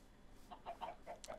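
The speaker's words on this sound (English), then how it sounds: "so there are real chickens. Real chickens exist." Chickens in a Pixelmon Minecraft video game cluck in a quick run of five or six faint, short clucks over a low background.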